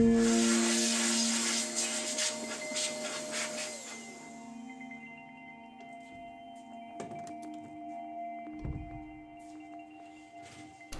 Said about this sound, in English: we'll be using the electric duster to get all the dust bunnies and some of the surface dust out